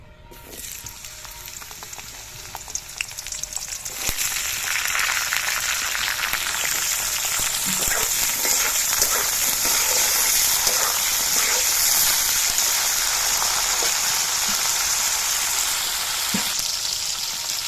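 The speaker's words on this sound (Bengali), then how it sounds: "এবার আমি এই সবজিগুলোকে একে একে সব ভেজে নেব।" Vegetables frying in mustard oil in a wok make a loud, continuous close sizzle that jumps up after a quieter start and holds dense and steady, with faint occasional stirring clinks.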